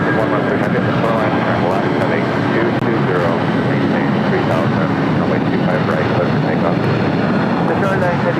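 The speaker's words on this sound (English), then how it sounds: "Next takeoff here on the south side is United Airlines Flight 368 heading to Newark in a 757-200." A United Airlines Boeing 757-200 takes off at LAX on the south side, its jet engines making a loud, steady, broadband roar that fills the whole stretch, with a voice speaking over it.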